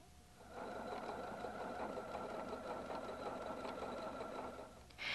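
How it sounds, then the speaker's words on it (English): A Husqvarna Viking Designer 1 sewing machine runs a reinforced stretch straight stitch, a steady close mechanical whir and rapid needle patter that holds evenly for several seconds and then stops, with no talking. "Touch stitch A8, the reinforced stretch straight stitch, to mend and sew strong seams."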